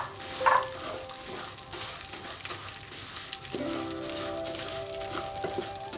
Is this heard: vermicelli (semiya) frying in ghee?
yes